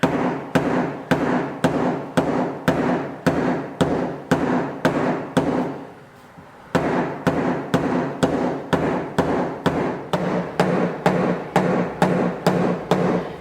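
A large dent in a car door panel being tapped out on metal with a steady, even series of sharp close taps, about two per second, pausing briefly midway before the rhythmic tapping resumes.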